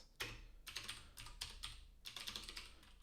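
Rapid bursts of keystrokes on a computer keyboard, crisp close clicks in quick clusters with short pauses between them, faint and without talk.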